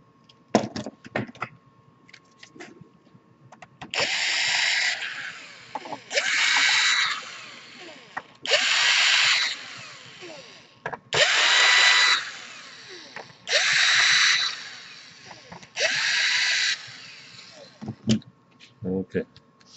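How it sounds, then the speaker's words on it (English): On an Acer Aspire laptop, an electric screwdriver unscrews the screws in about six evenly spaced buzzing bursts, each lasting a second or two, with small clicks and handling noise in between and brief talk at the start and end. "then you want to unscrew all the screws right here"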